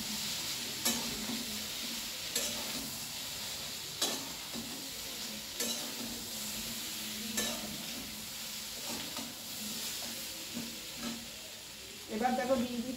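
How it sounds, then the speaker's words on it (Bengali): Chopped vegetables with turmeric and salt are stirred through hot oil, giving a continuous sizzle broken by occasional spoon knocks and scrapes against the pan, near and moderately loud, with a busier clatter at the end. "এবার হলুদ আর লবণ আমি ভালো করে সমস্ত সবজির সঙ্গে মিশিয়ে দিচ্ছি।"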